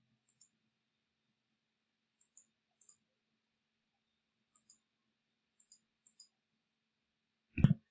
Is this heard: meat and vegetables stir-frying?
no